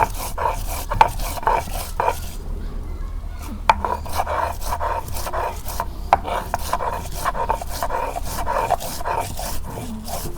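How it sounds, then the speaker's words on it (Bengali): Whole cinnamon, cloves and cardamom are ground by hand into garam masala in a village kitchen, giving a steady rhythmic rasping and scraping of repeated strokes. The strokes are close and moderately loud, with a brief pause near the start. "গরম মশলা বাড়তেছি আর বাসনা বেড়েছে।"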